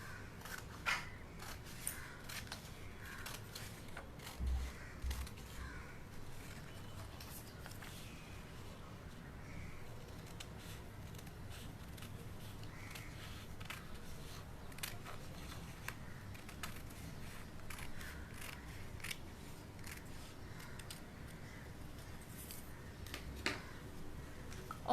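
Scissors cut paper for a handmade tuxedo card, a faint, scattered run of small snips and crisp rustles that goes on throughout against a quiet room.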